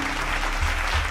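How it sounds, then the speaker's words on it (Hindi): A brief burst of crowd applause from a gathered audience at a rural development and Panchayati Raj session, a continuous, full wash of clapping lasting about a second. "हाँ तो ताली बजा दीजिए"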